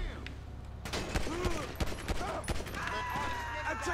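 Gunshots in GTA 5 during an LSPDFR police gang-unit patrol, several sharp cracks spaced irregularly amid busy game noise, with voices speaking over parts of the action.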